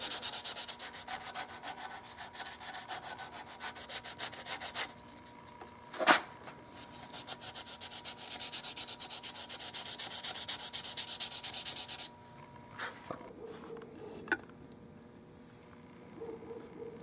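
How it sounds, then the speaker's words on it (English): 400 grit sandpaper rubs across a wooden Mauser rifle stock in a continuous, close, soft scratching. It pauses briefly around the middle and ends in quieter, lighter strokes with a few small knocks. "when you get finer and finer sandpaper, when you get down to 400, you can go across the grain"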